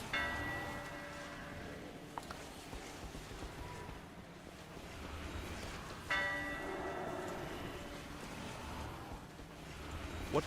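Town bells in a video game tolling an alarm as undead attack, two distant metallic strikes spaced several seconds apart over a steady windy, rumbling ambient bed.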